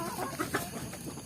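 Indonesian free-range village chickens (ayam kampung) cluck in a few quick, close, soft bursts over a short moment.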